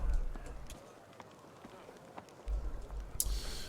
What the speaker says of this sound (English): She's there, along with her faithful horse companion, Isaac Gluten.